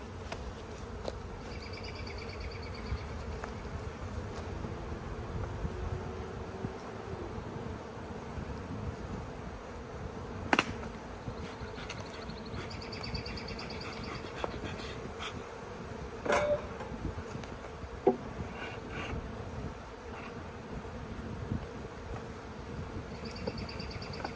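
Honey bees from a swarm buzzing around a hive frame being built out, a continuous dense hum close by with a few sharper knocks and clicks of hive handling, no speech.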